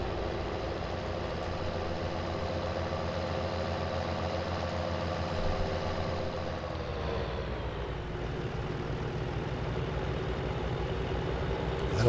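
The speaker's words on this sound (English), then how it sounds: "this tractor is struggling a bit on this trailer." A tractor engine in a farming video game strains while pulling a loaded trailer, producing a steady, continuous mid-pitched drone that stays loud and even for the whole stretch, with a slight shift in tone partway through.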